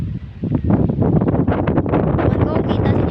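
Strong gusting wind buffets an outdoor microphone with a dense, continuous low roar and rustle that swells louder after the first half-second, while a voice talks underneath.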